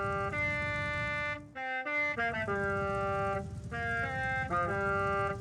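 A Horizon Mexico themed car horn from the Forza Horizon 5 video game plays a bright, multi-note melodic tune, loud and clean, with brief pauses between phrases and no talking.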